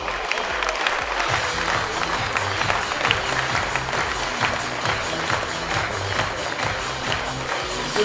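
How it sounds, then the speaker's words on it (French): Thunderous applause from the crowd at an amateur football awards evening for an honoree, dense sustained clapping with some cheering filling the room and no speech over it. "Merci de faire un tonnerre d'applaudissements à Lucia Telbois."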